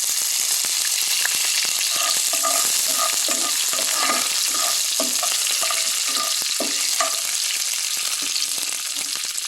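Curry leaves crackle in hot oil with roasted chana dal and urad dal for a coconut cabbage poriyal. A close, steady sizzle runs throughout, with frequent stirring scrapes and clinks and no talk.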